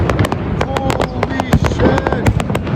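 Fireworks burst loudly and continuously above a rooftop, with rapid sharp cracks and booms piling over a dense rumbling wash, very close and intense, while a voice exclaims over the noise.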